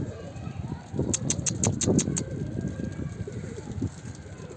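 Newly arrived pigeons shuffle and coo in a loft, giving soft rustling and low calls at moderate distance, with muffled voices in the background.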